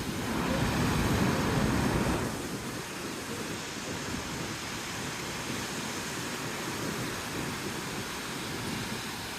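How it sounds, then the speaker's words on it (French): Surf rolls onto Da Nang beach in Vietnam, a broad roaring wash of waves that is loudest in the first two seconds, then settles into a steady hiss of breaking water, with no talking. "c'est la plage de Da Nang, où il y a beaucoup plus de vagues qu'à Nha Trang"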